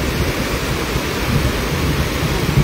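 Steady rain falls outdoors during a fishing trip, a dense, even hiss with no breaks or voices across the short stretch.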